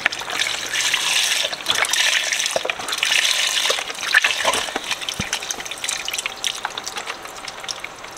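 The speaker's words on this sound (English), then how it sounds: "dump the water in" Water gushes steadily into a cooking pan while making 16 bean soup, a loud, continuous splashing pour that keeps going without a break and with no talk.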